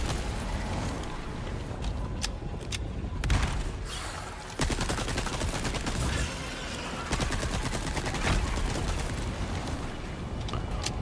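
Gunfire in Resident Evil 4 Remake: rapid, loud shots crackle almost continuously over a rumbling game background, with bursts clustering and brief dips between volleys.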